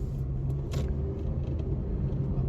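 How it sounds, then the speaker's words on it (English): A 1999 Chevrolet Cavalier drives along with a steady low engine and road rumble heard from inside the cabin, even and moderately quiet. "We're driving the 1999 Chevrolet Cavalier."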